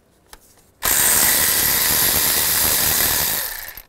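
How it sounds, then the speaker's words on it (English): A power driver with a 10 mm socket spins out an ignition coil bolt on a 2010-2017 Chevy Equinox engine, a loud steady whir running about three seconds after a brief click, then tapering off. "use a 10 millimeter socket"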